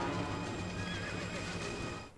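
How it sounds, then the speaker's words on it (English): A horse whinnies in the TV show Lost, one drawn-out neigh over steady background noise that fades at the end. "Oh, it was a horse."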